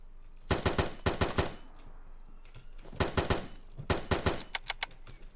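Automatic G36 rifle fire in the video game Zero Hour, arriving in two loud bursts of rapid shots separated by a brief pause, then scattered single shots toward the end.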